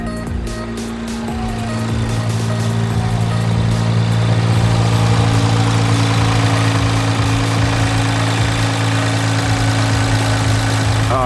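An Infiniti Q60's engine idles steadily with a smooth, low, even hum and a constant deep drone, close and loud throughout with no revving.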